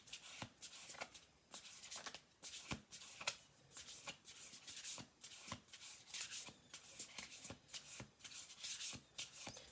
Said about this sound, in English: Do 2 more shuffle throughs.